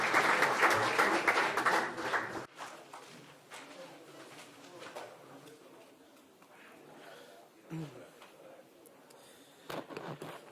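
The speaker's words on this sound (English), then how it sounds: "And a round of applause for the members of the jury and these entrepreneurs." An audience applauds the jury and entrepreneurs at a startup demo day, with loud clapping for about two seconds that then drops away into room noise and scattered sounds.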